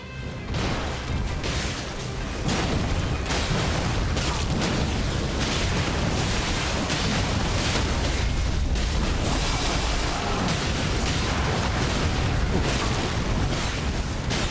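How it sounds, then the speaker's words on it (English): A dense, sustained roar of explosions and crashing debris from the video game Elden Ring Nightreign, loud and unbroken throughout with repeated heavy bursts and no voices. "Explosion still got me."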